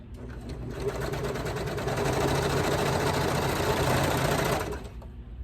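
A Brother Lock 1034D serger stitches a crotch seam on baby bummies, a steady close whirring run that starts up, holds at an even pace for about four seconds, then winds down.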